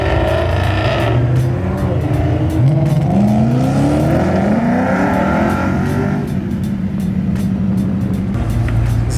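Lexus F cars on the race track at Apex MotorClub in Arizona. Engines rev and rise loudly and continuously, pitch sweeping up through the gears as the cars accelerate close by.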